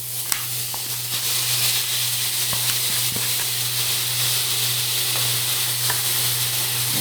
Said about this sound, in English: I'm gonna go ahead and dump my onions in there.